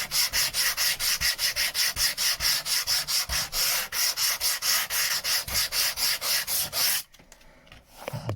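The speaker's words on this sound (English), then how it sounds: "So now I've got it all sanded, now I can go over again, just shaping it up" A wooden boat is hand sanded with fast, even back-and-forth rasping strokes, loud and close, for about seven seconds. Then the sanding stops and only quiet rustling remains.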